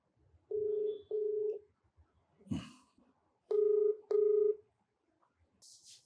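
A telephone keypad dialing a call: a series of clear, evenly spaced DTMF tone beeps, loud and close, broken by a brief rustle, with a few more tones afterward.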